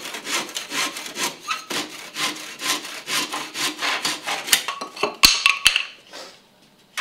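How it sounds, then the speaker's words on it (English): Steady back-and-forth sawing through panel molding trim during a kitchen backsplash installation, with a few sharp knocks near the end before it stops; close and continuous, with no talk. "we're going to have to cut the metal, and then we'll have to cut the length on the trim"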